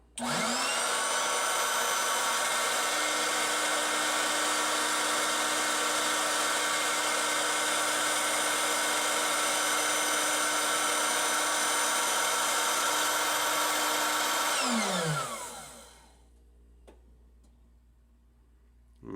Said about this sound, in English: I'm going to turn on the motor right now